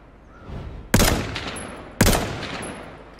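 Two sharp gunshots from the video game H1Z1, the second about a second after the first, each with a loud crack that rings out and fades. No one speaks.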